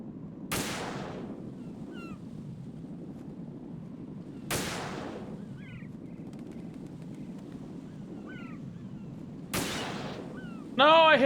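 Three loud sniper gunshots crack out several seconds apart in Metal Gear Solid 2, each with a short echoing tail, with faint chirps between them and a sharp burst at the very end.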